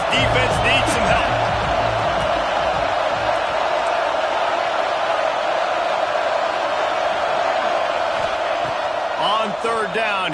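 A football stadium crowd at a Texas versus USC game swells into a broad sustained roar with scattered whoops, filling the space under a commentator's continuous play-by-play voice.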